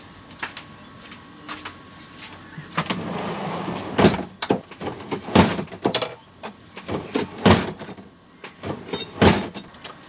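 A drawer scraping over rib nuts in a vehicle install, a series of sharp knocks and grinding scrapes in irregular bursts, close and fairly loud, with no voices.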